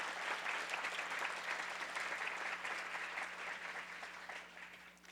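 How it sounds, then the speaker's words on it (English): A crowd claps steadily in sustained applause that slowly tapers off near the end. "Let's give them another round of applause."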